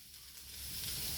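Onion and cabbage frying in a pan for vegetable fried rice, a faint, even sizzle and hiss that grows slightly louder over the short stretch, with no talking.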